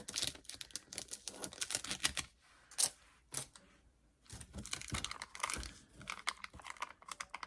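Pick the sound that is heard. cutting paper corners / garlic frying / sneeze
cutting paper corners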